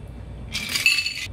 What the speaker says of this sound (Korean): 캡을 열고 잔의 밑부분을 잡으신 다음에 따라줍니다